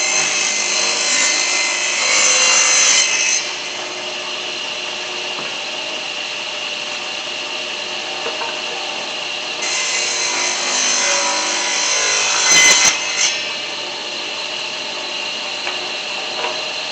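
A table saw rips wooden pieces down to 1.5-inch strips: two long, loud, steady cutting passes with a bright blade whine, separated by a quieter stretch of the saw running between cuts.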